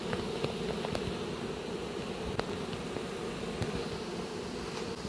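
Steady, dense buzzing of many honeybees close by as they are scooped into shipping cages, continuous throughout with faint soft rustles and clicks.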